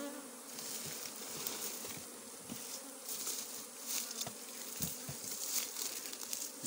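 Honeybees swarm in a continuous, fairly loud buzz around a hive opened for frame work, with sharper knocks and scrapes from hive tools on a faulty locally made hive stand. No voices.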